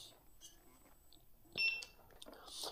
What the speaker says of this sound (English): This beeping sound of turning the wheel on and off is quite nice because it's not too loud.